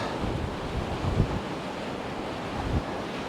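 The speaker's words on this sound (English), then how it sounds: "I know the wind's blowing" Wind rushes steadily across open water on a cold winter day of bass fishing, a continuous broad roar with low gusty buffeting against the microphone and no voices.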